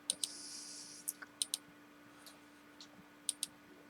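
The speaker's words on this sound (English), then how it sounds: "I'm going to click ungroup" Sharp, isolated mouse clicks sound while working in computer drawing software for CNC, a dozen or so light taps in small irregular pairs and clusters, close and quiet against faint background hum.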